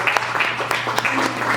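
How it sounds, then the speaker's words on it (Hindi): Audience applause at a school seniors' cultural programme, brief and moderately loud, with scattered sharp claps over a steady hum. "तो आप एक बार जोरदार तालियों से"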